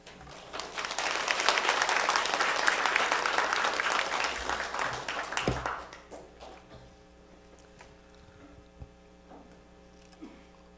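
Church congregation applauding in welcome of a pastor coming up to preach at a Sunday Advent service; steady dense clapping fills the hall for several seconds, then fades out to quiet room hum with a few scattered taps.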